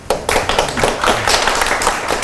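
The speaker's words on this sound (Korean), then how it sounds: "박수로 인사드리겠습니다" Audience applause at a local education forum in Goesan, a loud, close burst of steady clapping from a seated crowd lasting a couple of seconds with no talking.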